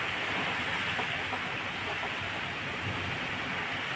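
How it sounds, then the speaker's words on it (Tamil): Heavy evening rain pouring down steadily, a dense constant hiss and patter across the whole span, close and even with no voices. "இந்த டைமில் மழை சும்மா வெளுத்து வாங்குது."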